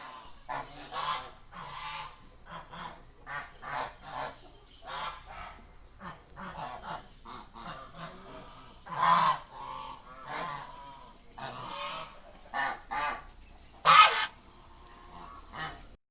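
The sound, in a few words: geese honking at home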